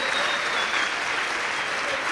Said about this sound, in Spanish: Dale un fuerte aplauso al Cordero que fue inmolado.